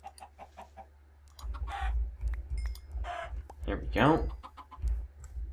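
Chickens clucking in Minecraft, a few short bird calls and clucks popping up in bursts amid quiet game ambience, with a person talking briefly between them.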